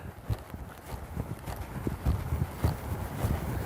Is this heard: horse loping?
yes